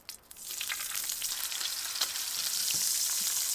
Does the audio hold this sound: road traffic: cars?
no